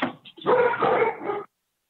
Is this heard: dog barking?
yes